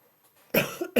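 A person coughs close to the microphone during an online meeting, two short, harsh bursts following a moment of near silence.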